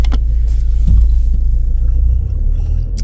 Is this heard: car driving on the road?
yes